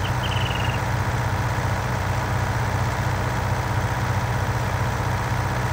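A tractor engine strains under load in Farming Simulator 19, a steady low rumbling drone with a heavy, constant throb and no pauses.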